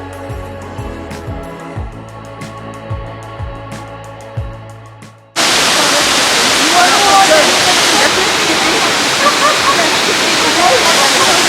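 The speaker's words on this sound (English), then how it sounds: "we finally reached to Choi waterfalls, which you can see behind" A steady, loud roar of Choi waterfall in the Tirthan Valley, Himachal Pradesh, fills the scene, constant and close, after a quieter opening with a soft musical tone.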